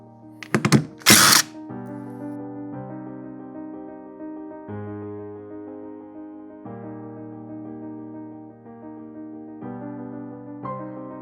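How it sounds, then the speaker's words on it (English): A power drill whirs in a brief, loud burst at the start while backing out temporary screws from a wall bracket, followed by a long stretch of steady tonal hum. "Now I'll just remove my temporary screws."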